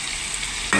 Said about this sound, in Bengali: মশলা আমার কষানো শেষ।